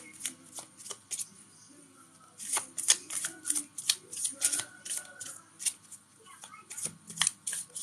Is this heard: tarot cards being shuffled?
yes